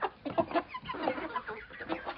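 Chickens and roosters cluck and squawk busily together at close range, a steady restless chatter of several birds.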